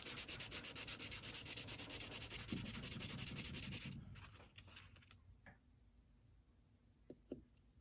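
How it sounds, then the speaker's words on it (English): Small parts for a Roundhouse 0-6-0T model locomotive are rubbed with sandpaper in quick, even strokes for about four seconds, close and fairly quiet, then a few faint clicks and taps follow. "Sand these down just a bit. Get them smoothed out."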